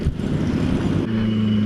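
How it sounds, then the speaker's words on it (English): A Benelli 600i ABS motorcycle engine gives a short, loud rev, roaring briefly and then settling into a steady throbbing hum up close. "Rev bomb."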